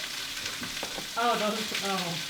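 Pork chops sizzle and crackle steadily in a frying pan, close up, with a brief louder burst of hissing partway through.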